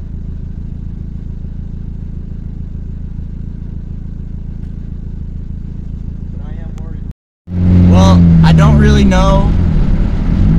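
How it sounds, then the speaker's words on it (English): A Honda Civic with an R18 engine, new header and new catalytic converter, but still sputtering with a check-engine light on, idles steadily for about seven seconds, then a brief gap before loud close talking takes over. "how much better my car is going right now with the new cat"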